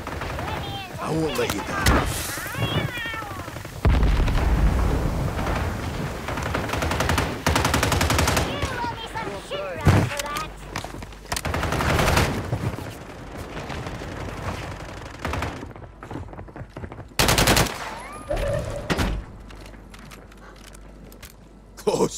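Call of Duty Modern Warfare 3 gunfire in a Resurgence match, heavy bursts and loud blasts that come and go over twenty seconds, mixed with game voices and a player talking.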